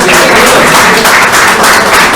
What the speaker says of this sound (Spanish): Otro aplauso para los hermanos.